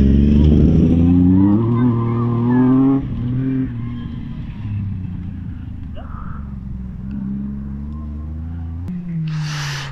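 A Peugeot 604 rally car at a gravel rally in the Vaucluse gives off a loud, close engine drone whose pitch rises and falls with revving, then fades to a lower steady rumble.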